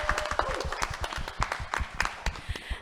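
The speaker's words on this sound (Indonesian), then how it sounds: "Saya pengen tepuk tangan satu kali lagi dong" An audience at a live music show on RRI Entikong radio claps together, a quick run of sharp, evenly spaced hand claps at moderate distance with no voices over it.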